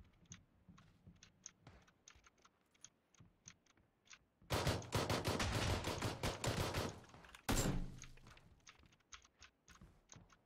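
Shotgun and rapid gunfire in the battle royale video game PUBG, a loud dense stretch of shots over several seconds amid sparse clicking taps before and after.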